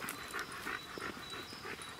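A dog pants steadily at a dog training ground, quick soft breaths repeating close by with no voices over it.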